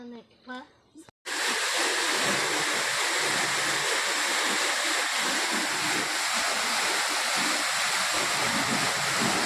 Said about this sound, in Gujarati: અટાણે ચાલુ કરીએ એટલે વાઇવની મોટરનું પાણી અહીંયા આવે